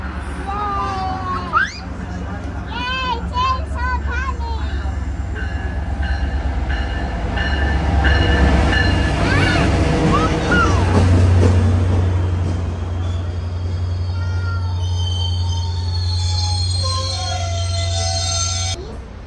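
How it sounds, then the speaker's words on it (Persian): A metro train pulls into a crowded station in Utah, a loud rising rumble with screeching, squealing wheels, while a hubbub of waiting passengers and voices goes on around it. "آمد قطار، آمد"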